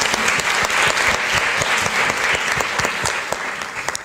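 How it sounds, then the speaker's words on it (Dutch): An audience applauds after a stage performance: dense, sustained clapping from many hands, loud and close, fading only slightly toward the end. "Het eerste applaus voor de voorstelling."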